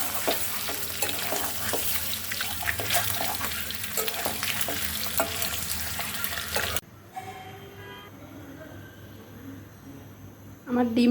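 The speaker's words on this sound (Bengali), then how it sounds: "চিকেনটা একটু বাগার দিয়ে নিচ্ছি।" Chicken pieces stirred and fried in a pan, with a loud continuous sizzle and scraping stir strokes that cut off abruptly, leaving a quieter kitchen background with faint clatter.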